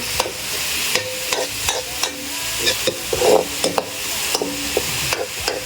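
A spoon stirs a simmering mixture in a sizzling pan, with steady scraping strokes repeating about once a second over a constant frying hiss. The sound is close and fairly loud, and no one speaks.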